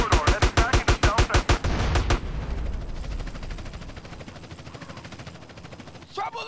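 Rapid bursts of gunfire in Grand Theft Auto San Andreas: a loud, evenly spaced string of about a dozen shots, then a dense rumbling barrage of distant overlapping fire trailing off.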